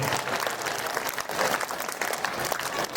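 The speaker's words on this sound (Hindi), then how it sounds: "आसमान आपकी तालियों की गड़गड़ाहट से गूंज रहा है।" Dense applause from a large audience at a school annual function, a continuous wash of many hands clapping together at a strong, even level with no talk.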